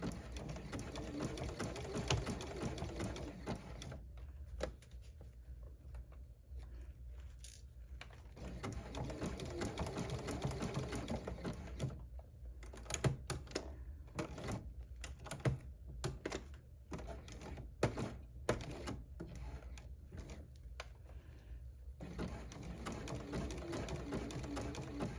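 Sewing machine zigzag-stitching satin binding onto a stretch fleece blanket, running in steady bursts of rapid mechanical chatter separated by short pauses, close and with no talking.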